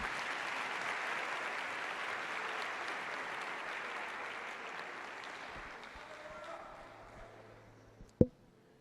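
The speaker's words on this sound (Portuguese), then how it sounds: "Vamos dar a Jesus uma linda salva de palmas" A church congregation applauding together, loud at first and then fading to quiet before a single sharp knock near the end.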